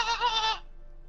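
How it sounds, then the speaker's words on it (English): A single short goat bleat in the video game Horizon Zero Dawn, bright and nasal, ending abruptly after about half a second, clear and close. "No, that was a goat."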